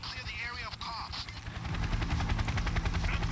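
Rapid bursts of grenade launcher fire in Payday 2, with a heavy rumbling boom building in the second half and a voice talking in Thai over the top.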